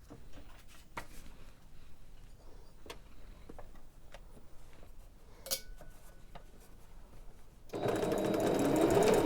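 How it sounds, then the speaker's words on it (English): A sewing machine runs steadily as it stitches two pieces of pajama pant fabric together with a size 12 needle, starting loud and continuous near the end after a quiet stretch of small handling clicks. "And I'm just going to sew around this."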